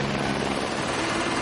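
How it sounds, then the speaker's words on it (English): A sheriff's helicopter passes overhead during a military-honors burial at a cemetery in Cheektowaga, giving a steady, loud rotor and engine roar with no voices. "The sheriff's helicopter passes above"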